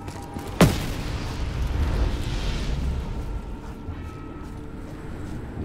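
A single sharp detonation blast goes off in a Call of Duty custom zombies map, a loud near crack followed by a rolling, fading rumble and low debris noise that lingers for several seconds.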